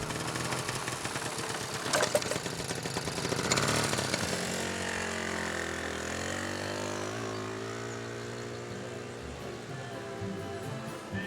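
A small moped engine runs steadily close by, a buzzing, droning motor that briefly revs louder before settling into a constant idle-like hum.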